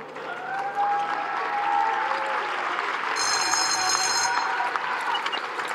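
Crowd applause and cheering at an international carriage driving competition at Windsor, steady and loud throughout as the last four-in-hand team sets off, with a brief ringing tone partway through.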